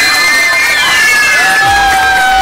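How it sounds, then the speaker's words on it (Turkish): Schoolchildren cheering and shouting loudly at a primary school debate event, a close, clipped burst of excited young voices with sustained high shrieks. "Aferin, alkışlıyoruz."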